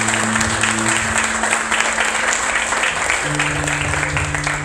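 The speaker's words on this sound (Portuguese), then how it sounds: "Você pode aplaudir o nome de Jesus." Congregation applause in a church service, a dense, continuous wash of clapping held at a steady level, with sustained musical tones from a keyboard or organ playing underneath.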